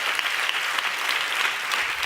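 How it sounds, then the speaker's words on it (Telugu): A church congregation claps hands in praise during a sermon, producing steady, continuous applause from many people throughout. "చప్పట్లు కొడుతూ స్తోత్రాలు చెప్దాం."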